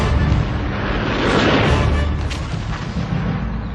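Anti-aircraft guns and missiles firing during the October War, a dense, continuous roar of distant blasts and rumbling booms with no clear gaps, loud throughout.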